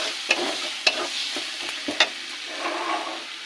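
Chicken frying in a pan with turmeric, cumin and chilli powder and onion paste crackles softly. A few sharp utensil scrapes and clinks land close by, with no one speaking.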